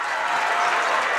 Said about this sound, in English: in front of a ruckus crowd at Stoughton High School